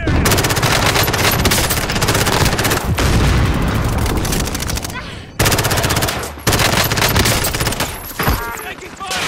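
Dense rapid automatic gunfire in Call of Duty: Modern Warfare, loud and sustained with booming shots, broken by two brief pauses, with a voice in the mix.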